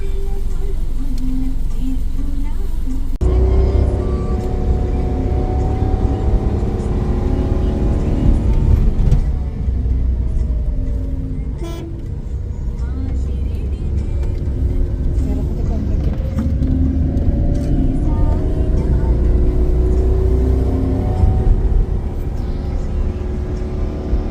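Vehicle climbing a ghat road up to a hill temple at Mangalagiri, its steady engine rumble and road noise loud and continuous throughout, with people talking over it.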